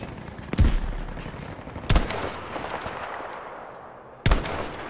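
M1 Garand rifle shots in Battlefield 5, three sharp loud cracks spaced about a second or two apart, each with a short echoing tail over low game ambience.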